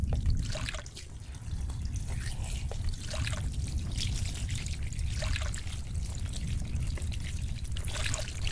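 Kerosene oil poured and sprinkled over a body and through a house, a steady close trickle and splash of liquid with scattered drips running throughout, no voices.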